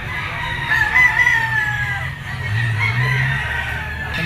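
Boston Roundhead gamecock roosters crow repeatedly over a steady low murmur of background noise, the calls fairly close and overlapping.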